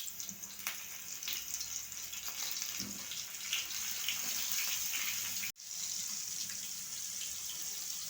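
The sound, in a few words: mackerel (bangda) fish frying in hot oil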